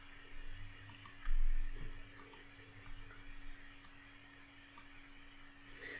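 A computer mouse gives a few sparse, sharp clicks over a quiet room hum, with a soft thump partway through.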